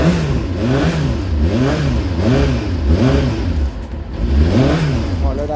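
A Kawasaki Ninja motorcycle engine being rebuilt runs just after a cold start with the choke off. It idles close and loud with a rising and falling throb, as if blipped gently and evenly.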